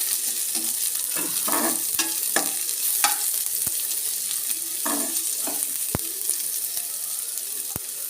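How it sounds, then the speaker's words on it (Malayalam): Onions fry in a pan for a Kerala mezhukkupuratti stir-fry, a steady sizzle broken by repeated spatula scrapes and several sharp metallic taps against the pan. "ആ നമ്മുടെ ഉള്ളി ഒന്ന് വഴന്ന് വരുന്നിടം വരെ നമുക്ക് നന്നായിട്ട് ഇളക്കണേ"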